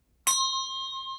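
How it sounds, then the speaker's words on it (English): A single meditation bell is struck once to clear the space, giving a sharp, loud strike followed by a long, steady ringing tone that sustains clearly with no voices. "let's clear the space with a bell ring and a bell mantra, so please protect your ears"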